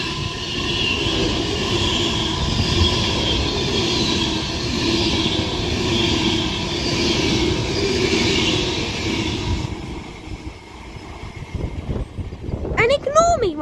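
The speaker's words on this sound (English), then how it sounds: "this Avanti West Coast Class 390 Pendolino is off to Liverpool from London now" An Avanti West Coast Class 390 Pendolino rushes past at West Allerton on the Liverpool branch of the West Coast Main Line, a steady rolling roar for about ten seconds that fades as it goes, with someone talking nearby.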